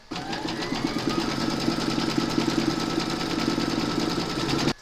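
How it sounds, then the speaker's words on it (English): An embroidery machine runs a securing stitch round on a hoop for an in-the-hoop medical rescue pouch, a steady, close mechanical whir with rapid needle rhythm that continues evenly and then cuts off. "You're then going to pop your hoop into your machine and stitch round number two to secure it."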